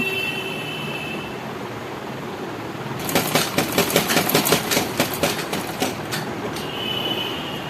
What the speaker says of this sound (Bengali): এটা আমি এবারে সেলাই করে নিচ্ছি, একদম সোজা করে বসিয়ে নিয়েছি।